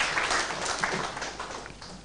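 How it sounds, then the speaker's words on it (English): Graduation seminar audience applauding in a moderate, steady patter of many hands that gradually fades over a couple of seconds. "I would like to request you to clap strongly for AIMS at the same time for the graduates."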